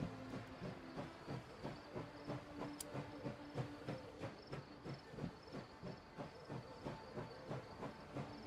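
A steam train in a video game chugs along with rhythmic puffs and clickety-clack, a steady even beat with hiss, one sharp click partway through, and no talk.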